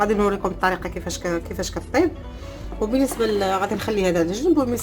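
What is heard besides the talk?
No everyday noise stands out behind the speech.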